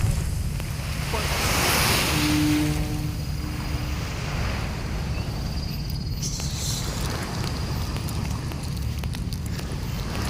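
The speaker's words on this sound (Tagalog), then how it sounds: "Dagat." Sea waves wash steadily onto the shore of a nature park, a continuous broad roar with wind buffeting the microphone and no clear pauses throughout.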